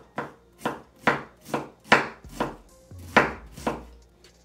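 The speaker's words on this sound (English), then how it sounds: "So now I'm gonna cut my cabbage into another half, and now it's time to slice it." A knife slicing through a halved cabbage on a cutting board, about ten crisp, evenly paced chops, each cut landing with a firm thud, loud and close with nothing else heard.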